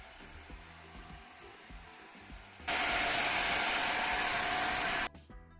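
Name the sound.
cordless 3-in-1 floor washer Jimmy HW9 vacuuming crumbs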